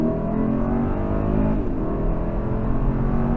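Twin-turbo V8 of a 2024 Mercedes-Maybach GLS600 mild-hybrid SUV pulls hard from a standstill, a loud continuous engine roar with rising harmonic tones heard from inside the cabin.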